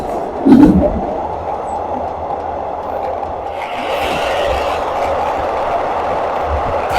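Ordinary Thai passenger train climbing onto an elevated railway track, a continuous rumbling roar with rail scraping and a brief louder clatter near the start, heard nearby.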